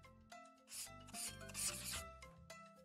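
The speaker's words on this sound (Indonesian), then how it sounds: "Kita gosok semua karat itu agar Sam terlihat seperti baru lagi." Rust being scrubbed off a cartoon monster truck, heard as a series of quiet raspy rubbing strokes over a few seconds, with short pauses between strokes.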